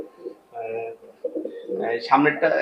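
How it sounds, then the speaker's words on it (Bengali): A pair of flying pigeons offered for sale coo in short, soft, low phrases close by, mixed with people talking. "দেখেন কবুতর দুইটা দেখেন ফ্লাইং গ্যারান্টি"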